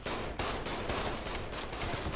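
Rapid, continuous gunfire from the Binary Domain video game, a loud, dense burst of shots hammering on with little pause from start to finish.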